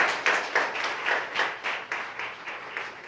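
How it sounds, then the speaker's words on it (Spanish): A church congregation claps hands in praise, roughly ten loud rhythmic claps blending into steady applause, with no talking. "Dele las palmas al Señor, hermanos."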